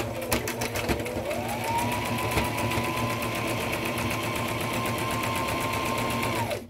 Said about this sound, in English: So you are sewing some curves.